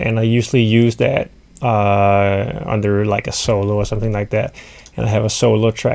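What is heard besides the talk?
No everyday noise stands out behind the speech.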